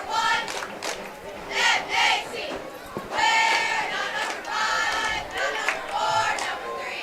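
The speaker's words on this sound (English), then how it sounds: "I haven't heard this cheer in a long time." Crowd cheering and chanting in rhythmic bursts at a high school football game between Earlham and Mt. Ayr, a loud mass of voices rising and falling over several seconds.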